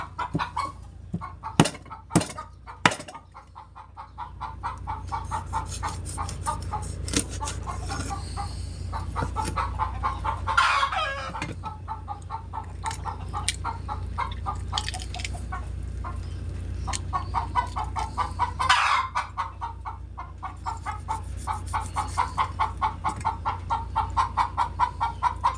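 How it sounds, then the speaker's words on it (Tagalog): Chickens cluck and cackle noisily while laying eggs, a busy, repeated squawking chorus near and loud throughout, with sharp bursts and a few louder cackling peaks over a steady low background rumble. "Maingay po yung manok, nangingitlog, putak ng putak."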